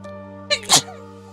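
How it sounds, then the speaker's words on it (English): A single female sneeze, a short intake followed by a sharp burst, close and clear over a steady low background hum. "It's a good sneeze."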